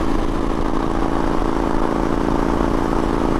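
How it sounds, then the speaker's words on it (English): A Harley-Davidson Super Glide motorcycle rumbles steadily through its exhaust pipes at close range, a continuous low engine throb with no break over a few seconds. "You can hear the sweet symphony from his pipes on his Harley-Davidson Super Glide."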